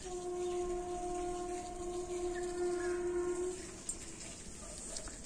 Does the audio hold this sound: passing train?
yes